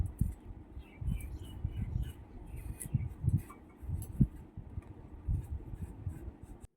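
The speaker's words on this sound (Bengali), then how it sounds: "তো প্রথমে আলুটাই কেটে নিচ্ছি।" Knife cutting potatoes by hand in a home kitchen, giving a quiet, irregular series of soft chopping thuds and scrapes close by, with no talking.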